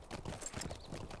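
A pony's hooves clip-clop in a Lord of the Rings Online style video game, a brief run of light, quick hoofbeats close by at low volume, with no talking.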